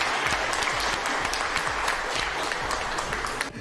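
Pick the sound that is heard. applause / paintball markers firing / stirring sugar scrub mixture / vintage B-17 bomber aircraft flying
applause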